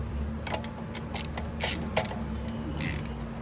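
A socket wrench ratcheting out the brake caliper bolts on a Venom x22GT 250cc scooter, quick bursts of close metallic clicking repeated several times over a steady background hum.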